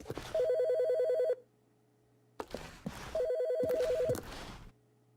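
A telephone rings in the video game The Stanley Parable, two bursts of a trilling electronic bell separated by a pause, fairly loud and close, with brief clicks and footstep-like knocks between rings and no speech.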